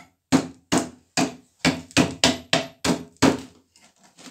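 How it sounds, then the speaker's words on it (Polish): A hammer knocking out a piece of a poor-quality concrete block that was drilled with a Ryobi R18SDS rotary hammer to make a hole for a box, nine sharp close blows in a steady rhythm, then a few faint taps. "teraz tylko młotkiem tu walnąć i będzie nasza puszka zrobiona"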